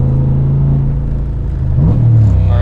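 From inside the cabin of a Nissan 350Z with an LS V8 swap, the engine drones loud and close, holding a steady deep tone before its pitch swings as the revs change late in the clip.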